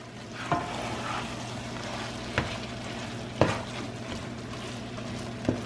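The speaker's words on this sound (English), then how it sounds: "And you want to stir that in." Cooked rice is stirred into a stuffed pepper filling in a pan, giving a soft steady sizzle with a low hum and a few sharp spoon taps against the pan, close but fairly quiet, with no talk.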